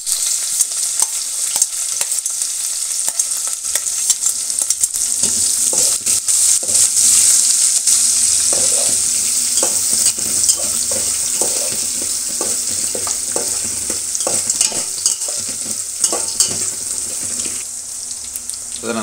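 Peanuts, urad dal and chillies fry in oil in a pan for upma, giving a steady bright sizzle throughout with occasional stirring clatter, no talk.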